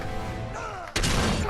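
Explosion shockwave from a wrecked train in Uncharted 2: Among Thieves. A rising rumble breaks into a sudden loud, broadband boom with crashing debris that stays at high level to the end.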